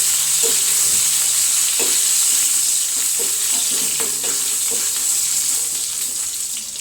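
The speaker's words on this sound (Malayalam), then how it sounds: "ഉള്ളിയൊക്കെ മൂത്തിട്ടുണ്ട്" Onions frying in a pan for a green plantain curry, a steady close sizzle with occasional stirring clicks and scrapes running throughout, no talking.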